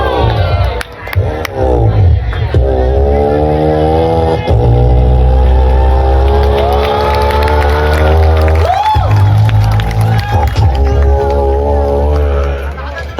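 At a college gathering, a man imitates an auto-rickshaw running with a sustained buzzing, droning voice whose pitch wavers and rises, heard close and loud over a noisy crowd.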